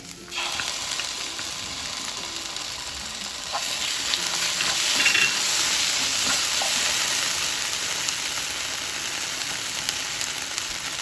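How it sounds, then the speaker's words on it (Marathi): Chilli chicken frying in a pan as tomato sauce goes in, a loud, continuous hissing sizzle that swells slightly midway and holds steady, close up with no voices. "हे चांगलं फ्राय करून घ्यायचं याच्यामध्ये मी टमॅटो सॉस घालत आहे"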